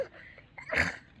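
A single short human sneeze, a quick breathy intake followed by a burst of sharp air, close and moderately loud with no other sounds around it.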